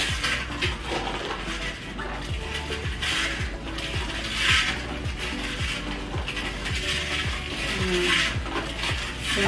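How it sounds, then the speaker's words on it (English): Sugar stirred into a Jamaican sorrel drink, a close, repeated scraping and clicking of stirring strokes in an even rhythm, with no voices. "I'm just gonna go ahead and mix. And go ahead and mix it up."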